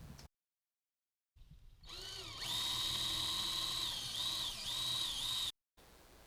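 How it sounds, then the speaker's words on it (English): A power drill whirs up close while boring through a rubber grommet in a BMW F10 5 Series firewall, its pitch rising as it spins up, dipping and recovering under load before stopping abruptly. "We're going to drill through this rubber grommet to the right of the wires"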